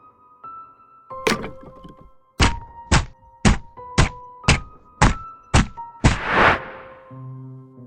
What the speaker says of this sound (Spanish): Unos pasos lentos y pesados sobre nuestras cabezas.